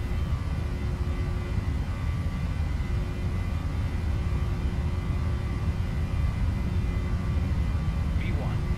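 Steady, loud roar of Boeing 737-800 jet engines at takeoff power, rendered in FSX, a continuous broadband rush with a faint whine holding even throughout.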